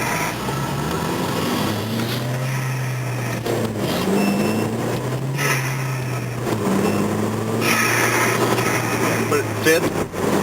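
A 2.0T turbocharged Hyundai Genesis with a cone filter intake accelerates uphill through the gears, its engine note rising and dropping with each shift, loud and close with a whooshing intake, while a voice talks over parts of it.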